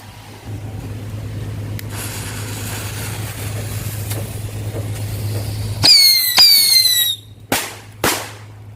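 A loud Indonesian "petasan tikus" firecracker burst with a shrieking whistle, followed by two more sharp bangs in quick succession, over a steady low engine-like hum.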